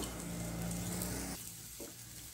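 Turnip curry with ginger, garlic and green chilli sizzles in a pan as it is stirred, a close crackling hiss that drops off abruptly near the end, with no talk.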